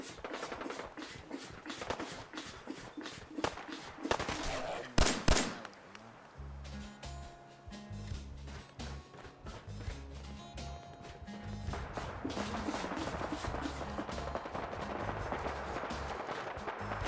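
Bursts of gunfire from gunners in Fallout 4 VR, played on an omnidirectional treadmill, come as scattered sharp cracks over a busy game soundscape with music-like low tones midway; no speech.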